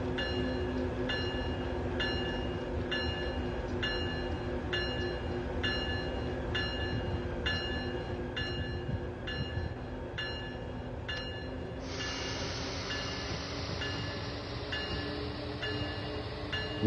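A train locomotive in Train Sim World 3 sits at a stop and winds up its engine, a steady loud rail rumble with a repeating rhythmic tone that shifts to a higher whine partway through, no voices over it.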